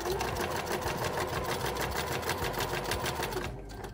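Close sewing machine stitching bias binding onto an umbrella, with a fast, even mechanical chatter running steadily before it slows and stops near the end.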